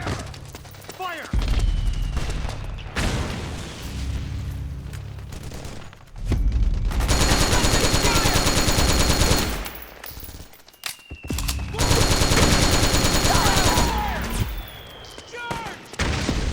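Bursts of rapid automatic gunfire and booms from the video game Metal Gear Solid 4, loud and sustained with brief lulls between volleys, with soldiers shouting commands among the shots.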